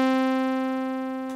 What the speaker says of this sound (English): always start with a Thor, and it sounds like this once it started.